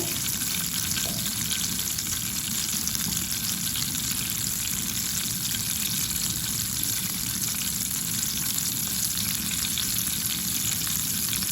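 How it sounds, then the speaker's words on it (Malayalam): Mustard seeds spluttering in hot oil in a pan while tempering a Kerala-style dish, a steady, dense crackle and sizzle that runs unbroken at close range with no voices. "അത് പാനിൽ തന്നെ 1/4 ടേബിൾ സ്പൂണ് കടുകൊന്ന് ചേർത്ത് കൊടുക്കാം. കടുകൊന്ന് പൊട്ടട്ടെ."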